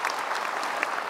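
Studio audience on an Indonesian TV talk show breaking into brief, dense applause, a steady wash of clapping hands lasting about a second.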